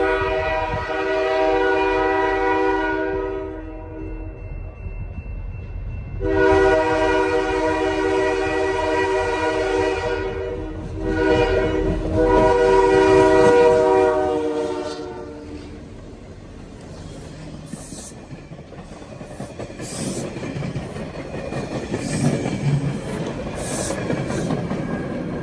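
A passing train sounds its horn in long, loud sustained blasts, two main honks with a short third, followed by the rumble and rattle of the cars rolling by.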